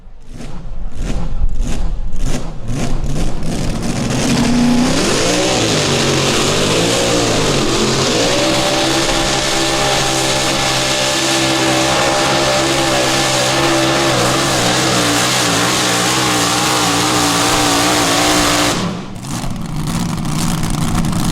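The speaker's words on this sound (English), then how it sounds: "he clicks it off after a couple of hard passes on the tractor tonight" A pulling tractor's engine revs hard during a pull at a summer pulling event in Freeport, Illinois, loud and sustained, rising through a wavering roar before cutting off near the end.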